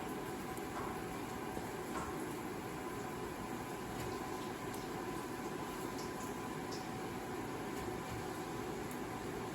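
Steady crackling sizzle of plantains frying in hot oil, a dense continuous hiss with faint pops, close by and without speech.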